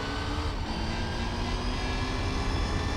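Car engine held at full throttle while racing in the video game Gran Turismo 4, a steady, dense, loud drone running unbroken throughout with no pauses or voices.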